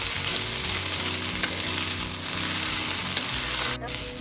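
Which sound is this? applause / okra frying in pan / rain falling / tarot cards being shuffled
okra frying in pan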